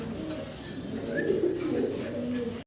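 Fancy pigeons, including Birmingham Roller and Maltese babies, coo in a low steady murmur close by for a few seconds with no talk over it.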